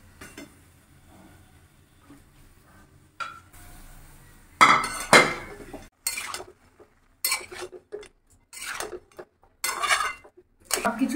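Metal utensils clatter and scrape against a pan in a series of sharp bursts while sautéed vegetables and Malabar spinach greens are mixed together, with quiet gaps between the strokes.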